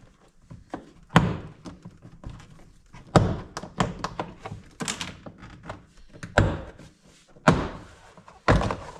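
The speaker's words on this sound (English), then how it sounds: "we can detach the door card from the door by gently prying it off with a trim removal tool" Plastic door card of a Honda Fit being pried off the door with a trim removal tool: a series of sharp, close thunks and snapping pops spaced a second or two apart, with faint rustling and handling noise between them and no talking.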